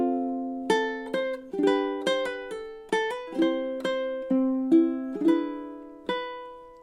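Ukulele plays the opening of the chorus of a song in steady time, a string of crisp plucked notes and strummed chords about every half second, close and clear with no talking.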